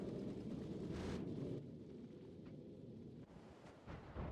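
Rockets launching on the volcanic planet Vulcanus in Factorio 2.0, a steady loud low rumble with a brighter roaring surge around the middle, then a quieter sustained drone with soft thuds, no talking.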